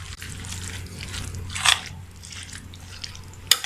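Shawarma sauce ingredients are stirred and mixed in a bowl with soft, wet squishing, then two brief sharper clinks of the spoon against the container, fairly close and quiet.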